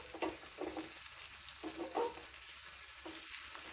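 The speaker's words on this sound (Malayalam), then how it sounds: "ഉള്ളി മൊരിഞ്ഞ് തുടങ്ങിയിട്ടുണ്ട്." Shallots and curry leaves frying in coconut oil in a pan for a prawn kofta curry, a soft steady sizzle with occasional faint stirring scrapes, heard alone without talk.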